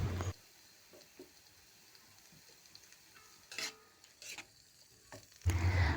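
Rice vermicelli with a splash of water and sweet soy sauce gets stirred in a pan, with soft scraping strokes and light sizzling that swell in a few bursts, close by and without talk.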